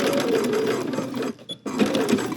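Sewing machine stitching a garment seam around the underarm, a loud, close, rapid needle chatter that pauses briefly midway and then resumes at the same pace.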